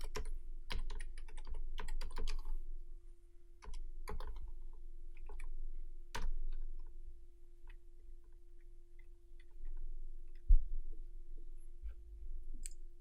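Computer keyboard keys clatter in quick, uneven bursts while someone types a Java print statement into an IDE. Pauses separate the bursts, and one sharp louder click stands out near the end over a steady low hum.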